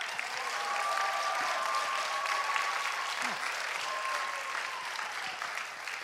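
Audience applause at a church rock concert, a steady, dense wash of clapping from a sizeable crowd lasting several seconds, with faint musical tones drifting underneath.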